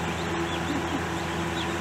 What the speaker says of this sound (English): There's chickens, live chickens.